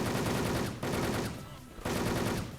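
Rapid Uzi submachine gun fire in a video game rattles out in two long, dense bursts with a brief break between them, loud and close.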